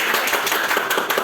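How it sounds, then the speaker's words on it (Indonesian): A Class 6A primary-school group clapping together in a classroom: a brief, dense burst of many hands patting at once, fairly loud and close. "Oke, tepuk tangan untuk kita semua."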